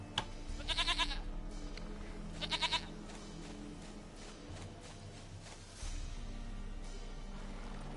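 In the video game The Witcher 3, a goat bleats twice in short quavering cries about two seconds apart, with light shuffling and ambient rumble filling the gaps.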